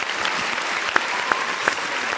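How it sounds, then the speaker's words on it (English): A canned clap sound effect triggered from a soundboard button during a football podcast, a dense wash of applause-like noise with a few sharp transient peaks, steady and moderately loud, no voices. "I didn't mean to hit the clap sound"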